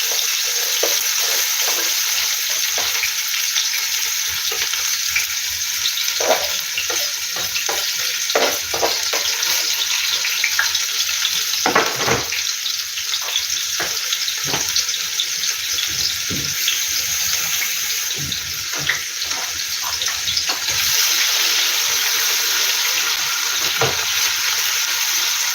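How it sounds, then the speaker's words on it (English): Chopped onion sautés in hot oil in a pan, a loud, continuous crackling sizzle with scattered pops and occasional stirring scrapes throughout. "I'm sauteing my onion."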